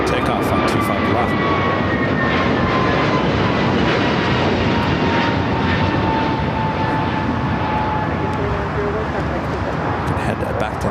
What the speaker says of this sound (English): We do have a Dreamliner and a short final. This is ANA.